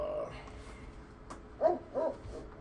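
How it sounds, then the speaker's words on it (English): Two soft, muffled barks from a dog sound a short distance away, spaced about a third of a second apart, with quiet talking in the background. "Now my dog's gonna start barking."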